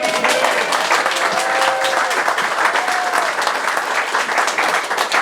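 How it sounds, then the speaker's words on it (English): A room full of seminar attendees applauds for a 12-year-old girl, a sustained, fairly loud wave of clapping with faint voices and calls mixed in. "Give Chloe a round of applause."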